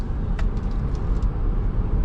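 A Chevy Bolt EV drives through a turn, easing off without braking and then accelerating back out, with a steady broadband road and tyre rumble heard from inside the car.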